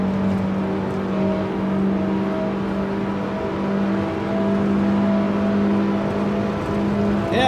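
BMW M race cars drone steadily in a racing video game, a continuous engine hum with a sustained pitch and no pauses.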